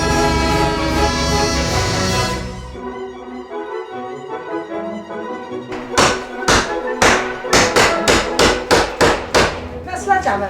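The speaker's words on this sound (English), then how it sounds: "That's sledgehammer." Sledgehammer knocking out a stud wall during a home renovation in Scotland: after a stretch of rumbling noise, a rapid run of about a dozen loud, close, heavy thuds and cracks lands in an uneven rhythm.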